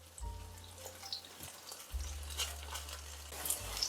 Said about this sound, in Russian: Обжаривать баклажаны я буду в несколько приемов.